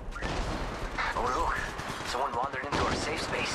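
Gunfire in the battle royale shooter Apex Legends, a rapid string of sharp shots and impacts under a player's running voice chat, loud and close with bursts clustered through the clip.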